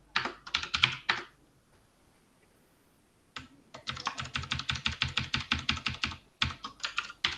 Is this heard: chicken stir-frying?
no